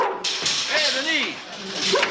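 A dog barks and whines close by, with yelping, pitched cries rising and falling over a second or so amid a noisy indoor scene with voices.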